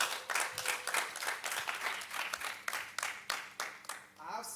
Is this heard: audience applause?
yes